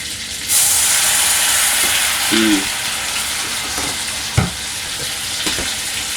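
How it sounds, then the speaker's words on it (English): Butter and brown sugar sizzle in a hot pan with a steady loud hiss, as a spoon stirs through the mixture with a few soft clinks. "Now I'm going to take my spoon here and just stir this in"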